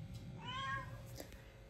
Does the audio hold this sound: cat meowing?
yes